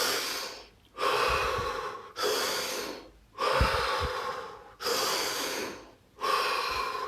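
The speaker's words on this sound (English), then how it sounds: "Drop your hands and take this time 5 deep breaths." Deep breathing during a guided breathing exercise: five long, loud inhale-exhale cycles, each a steady airy rush followed by a short pause, close to the microphone with no talking.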